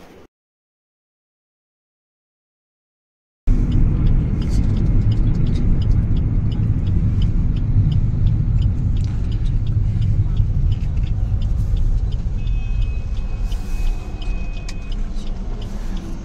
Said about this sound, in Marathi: खूप ट्रॅफिक असते या रोडला.